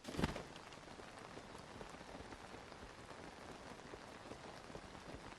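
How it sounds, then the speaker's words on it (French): Steady rain in the video game Zelda: Tears of the Kingdom pours down, a dense, even hiss of drops hitting surfaces, with a slightly louder splash at the very start. "le problème, c'est qu'il pleut"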